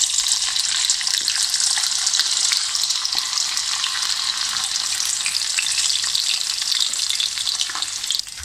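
Potato sticks for chips deep-fry in hot oil at medium heat, giving a loud, continuous hiss and crackle with occasional stirring clinks, heard alone without talk.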